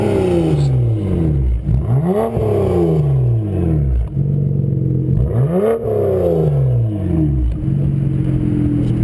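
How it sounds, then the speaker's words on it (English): A BMW 335i with a 3.5-inch HPF stainless steel exhaust revs twice outdoors, each blip a loud rising and falling snarl over a steady idle burble, with no talking. "wanna rev it once for me?"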